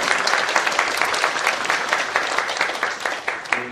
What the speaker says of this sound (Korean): 박수로서 답해 주시면 더 고맙겠습니다.